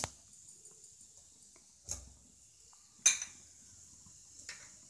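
A spoon stirs chilli powder into an aloo methi curry in a pan, giving a few sparse metallic scrapes and clinks against the pan, quiet in between.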